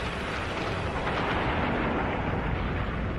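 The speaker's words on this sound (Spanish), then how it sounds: "La explosión es de tipo supernova." A supernova explosion sound effect: a loud, dense roar that rumbles on steadily for about three seconds with no voices over it.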